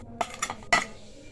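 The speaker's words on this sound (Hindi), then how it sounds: "अब ऑमलेट का मसाला हम मिक्स कर लेंगे।" A spoon clinks three times against a bowl while mixing dry omelette spices with chilli, onion and coriander, close and quiet with short sharp taps.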